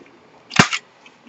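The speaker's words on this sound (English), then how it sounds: "I am just rounding this top one with a 1/2 inch rounder" A 1/2 inch corner rounder punch clips the corner of a piece of scrap paper, giving one sharp, close snap against quiet background.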